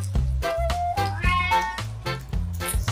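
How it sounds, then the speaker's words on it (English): A cat meows several times in quick succession, short clear cries over a bouncy backing tune. "C for cat."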